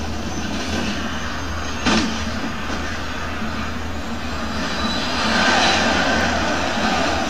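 Helicopter in the video game Alan Wake, a continuous loud engine and rotor roar that holds steady throughout and swells slightly toward the end, with no speech over it.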